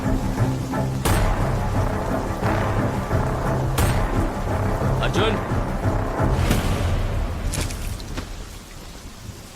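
A thunderstorm with rain over Bombay roars through a dramatic movie scene as a broad, steady wash of downpour broken by sharp thunder cracks, with someone speaking over it.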